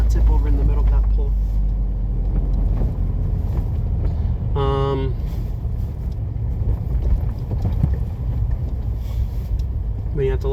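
A used car on a test drive gives a continuous engine and road rumble with wind buffeting, under ongoing talk, with a brief tonal whine partway through.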